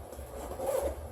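A single close, quick zipper pull opening a Vanquest Katara EDC sling bag, a short rasping run lasting about a second.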